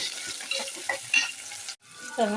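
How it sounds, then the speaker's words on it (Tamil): Chopped onions sautéing in a pan with cinnamon and chilli for Tamil kara kuzhambu, a steady close sizzle with occasional stirring clinks, a brief drop to near silence near the end. "வெங்காயம் நல்லா வதங்குது."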